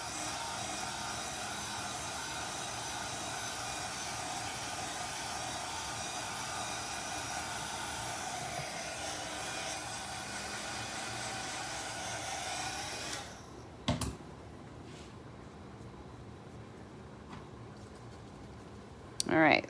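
A heat gun blows hot air in a continuous loud, steady roar for about thirteen seconds, then shuts off, leaving a few clicks and handling noises with faint talk.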